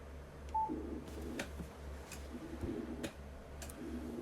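Antenna tuner relays clicking in quick, irregular ticks while it tunes after a ham radio transmitter is keyed on 20 meters, faint and close, over a low rhythmic hum from the transmitter.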